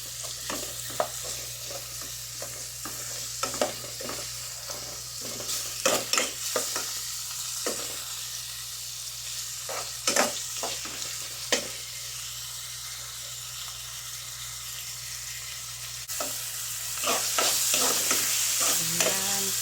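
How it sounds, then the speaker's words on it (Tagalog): Tomatoes sizzle and fry in a pan for chicken sinigang while being stirred, with a steady frying hiss under repeated scraping utensil strokes that grows louder and brighter near the end; no talking. "Lalagyan ko din siya ng kamatis."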